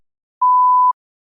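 A single steady electronic beep sounds for about half a second as a spoken-test response prompt, clean and alone against silence.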